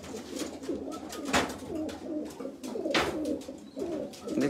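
Domestic pigeons coo close by in a loft, soft low rolling calls repeating over a busy background of wing flutters and shuffling.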